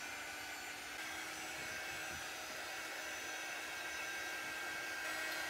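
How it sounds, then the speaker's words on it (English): A hair dryer blows air steadily to dry paint on a handmade Welcome Spring craft sign, a close, loud, even whoosh that holds for several seconds with no talking. "So I am going to use my dryer."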